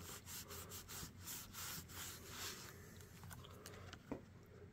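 Conditioner rubbed into a leather knife sheath by hand, a steady quiet rhythmic rubbing and brushing with soft strokes, close and low in level, no talking.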